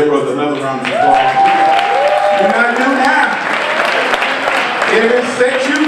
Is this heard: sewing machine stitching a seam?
no